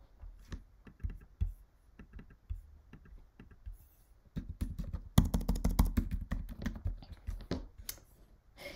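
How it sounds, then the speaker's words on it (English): Rapid clattering keystrokes on a computer keyboard, starting as sparse taps and building into a dense, louder burst of typing, heard up close with no talking. "Maybe I'll type dot dot dot."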